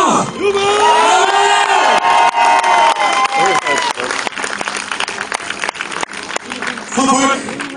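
A large crowd cheers, whoops and applauds at the knights' tournament of the Riegersburg medieval festival, loud and sustained, with shouts and a voice rising through the roar before it thins briefly and swells again.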